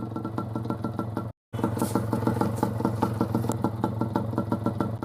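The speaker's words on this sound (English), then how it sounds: "The Yamaha DT175." A Yamaha DT175 single-cylinder two-stroke off-road motorcycle idling close by, a fast, even, rattly putter that cuts out for a split second, then resumes steadily.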